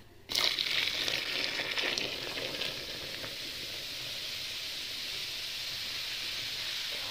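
A sudden burst of hissing fizz as Magic Pink cleaner hits boiling water, then a steady, bright effervescent crackle that continues evenly throughout.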